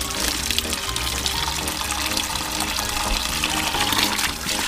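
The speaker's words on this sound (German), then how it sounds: "Wasserhahn dran." Water gushes steadily from an outdoor garden tap, a dense, continuous splashing rush at constant loudness with no voices over it.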